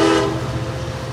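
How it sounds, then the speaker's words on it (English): A four-car San Joaquin passenger train led by an F59PHI diesel locomotive departs Antioch/Pittsburg station, a loud steady engine drone with a tonal horn-like note at the start, then a rumbling roll close by. "And leading on the train is F59 PHI 2003. Zooming off."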